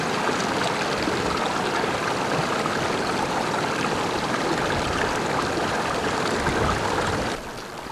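A high mountain waterfall below Ultar peak in the Karakoram roars as a steady, dense rush of water, loud and unbroken throughout, easing slightly in the final moment.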